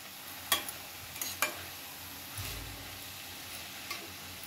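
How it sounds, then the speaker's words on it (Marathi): Chopped dill (shepu) leaves being stir-fried in a pan on low gas, with a faint soft sizzle and a few sharp spoon clicks against the pan, quiet and close. "आता भाजी चांगली परतून घेऊया।"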